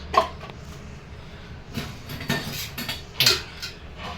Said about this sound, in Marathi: कसं वाटतं भांडी घासायला